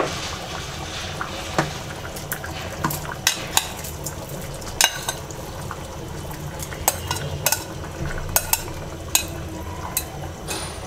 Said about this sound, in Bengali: এবার আমরা মাংসটা দিয়ে দিচ্ছি।